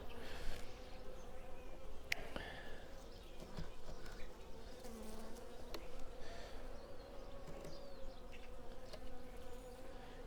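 Honey bees humming steadily around open hive frames while colonies are prepared for winter, a dense close buzz throughout with occasional louder passes near the listener and a few faint knocks of handling.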